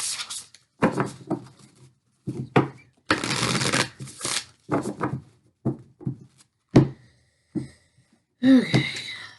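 Divine Feminine Oracle cards shuffled close up in loud, rustling bursts separated by brief pauses, with a short breath or voice sound near the end.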